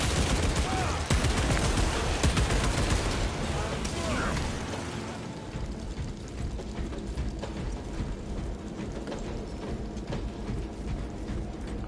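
Gunfire and a grenade blast in the video game Warhammer 40000 Space Marine 2, with loud dense bursts of shots for the first five seconds, then quieter mechanical clicks and scattered shots.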